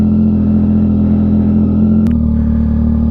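Yamaha XSR900 motorcycle engine on a night ride, a steady loud drone with strong low harmonics that shifts pitch downward partway through, as if changing gear, with no talk.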